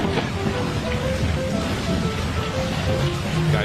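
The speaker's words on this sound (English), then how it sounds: "It's raining." Rain falls steadily on a porch, a dense even patter with soft scattered drops and a low background wash, continuous and fairly loud, with no talk.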